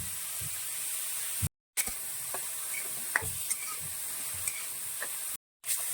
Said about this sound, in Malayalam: നമ്മൾ ഇതിലേക്ക് അരപ്പ് കൂടി ചേർക്കുവാണ്.